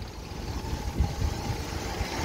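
A 1981 Toyota Pickup SR5 with a 22R engine idles in a low, uneven rumble with soft irregular thumps, moderately close and steady for a couple of seconds, no voices.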